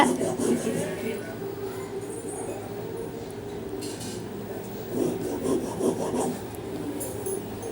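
Waste cardboard is folded at the center and pressed flat, producing soft, close rubbing and scraping with a few brief louder crinkles, while someone speaks quietly nearby.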